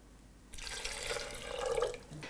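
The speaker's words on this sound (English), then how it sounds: "Now we'll put the rinsed almonds into the blender, and into which I'm going to add 4 cups of water." Water poured into a blender jar holding rinsed almonds, starting after a short quiet pause with a hollow splashing fill that rises in pitch, then tails off into drips. Fairly faint.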